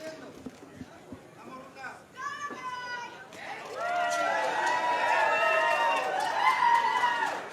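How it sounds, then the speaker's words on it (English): A crowd of about 150 people at a sold-out boxing match cheers loudly and continuously, after brief, scattered voices and thuds at the start. "You hear some cheers from the crowd."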